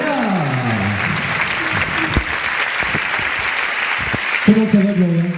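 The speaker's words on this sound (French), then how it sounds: "je vous demande d'applaudir très très fort" An audience applauds singer Gloria in a sustained, dense wash of clapping, with a voice speaking over it near the start and again toward the end.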